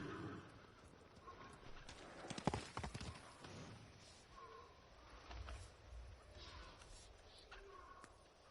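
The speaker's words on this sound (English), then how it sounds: "Horse." A horse in the samurai video game Ghost of Tsushima, hooves clopping in a quiet uneven rhythm with a brief whinny early on, faint and set against soft ambient game sounds.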